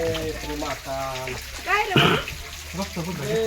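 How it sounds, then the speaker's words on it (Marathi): Inside a cave at the ancient Ramling temple, water pours down from above onto the deity, a wet splashing that swells to a brief loud gush, while people talk over it. "वरून पाणी येत आहे फक्त अभिषेक या ठिकाणी पूर्ण होत आहे पाण्याद्वारे"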